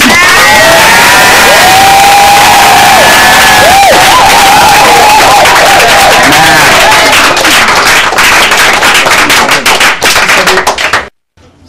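A church congregation cheering and acclaiming God, with loud massed shouts, whoops and sustained cries that fill the space, followed by a burst of applause-like crackle before an abrupt cut to near silence.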